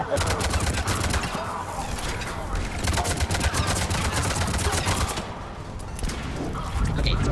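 Rapid bursts of gunfire from the video game Mass Effect 3, dense and continuous across the whole stretch, with a player's voice talking over the shooting.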